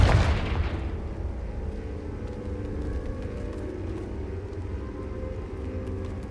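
A Confringo explosive spell goes off in Hogwarts Legacy: one sharp, loud blast at the start that settles into a long, low rumbling tail lasting several seconds, with no voices heard.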